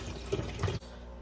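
Water rushes steadily into a machine's reservoir for just under a second, then cuts off abruptly, leaving a quiet tail.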